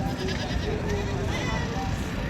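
A Kamori billy goat bleats at a Sindhi goat sale, giving a few wavering calls amid close background chatter and murmuring from people nearby.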